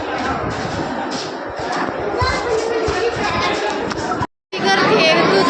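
Crowd at Tuljapur temple: a dense murmur of many voices and footsteps close around, with occasional thumps, continuous and fairly loud, briefly cut to silence before resuming.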